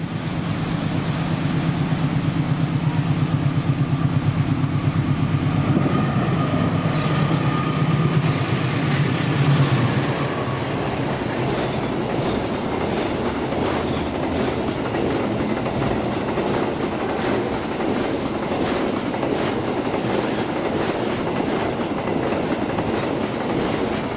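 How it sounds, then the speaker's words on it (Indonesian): Diesel locomotive passing directly beneath a pedestrian bridge near Klari station, a loud, steady engine roar and exhaust rumble giving way to continuous rolling wheel clatter of the train cars, close and alone without talk. "rasakan sensasi udara yang menampar keras begitu exhaust loko lewat di bawah JPO"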